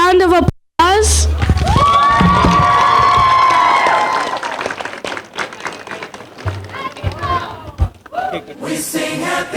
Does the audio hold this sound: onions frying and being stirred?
no